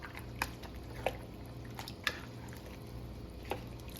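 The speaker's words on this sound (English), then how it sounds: "Now we're gonna mix this up. Give it a bit of a stir." Elk vegetable soup being stirred with a plastic spoon in a pot, soft wet squishing under a low simmering hum, broken by a few distinct clicks and knocks of the spoon.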